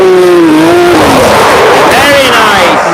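A drift car on a practice track in Cyprus slides with a loud, sustained engine howl and tire squeal, the pitch wavering through the skid, while someone speaks over it nearby.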